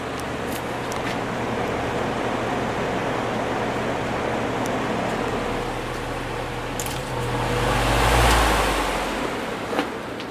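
A vintage Lakewood SPC/LT 18 fan runs steadily on its low speed setting, a soft continuous whoosh with a low hum, briefly swelling a little louder near the end, with no talking.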